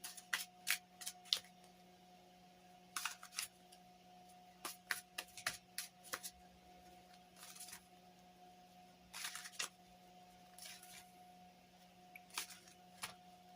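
A Good Fortune Tarot card is drawn from the deck, with bursts of quick, crisp card riffling and shuffling in short clusters over a quiet steady hum, close by and with no talking.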